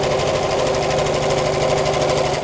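Sewing machine stitching across flat elastic, a fast steady mechanical chatter of needle strokes, close and continuous, slowing slightly at the very end.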